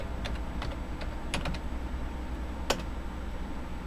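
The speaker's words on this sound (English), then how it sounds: "Now we'll type active." Keystrokes on a computer keyboard while entering disk partition commands for a bootable Windows USB, a sparse run of separate clicks with one sharper, louder tap near the end, close and alone over faint background hum.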